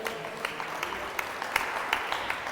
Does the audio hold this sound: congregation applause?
yes